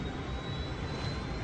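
Airliner jet engines roaring at takeoff power, a steady, dense broadband rumble with a thin high whine running through it, loud and continuous from start to finish.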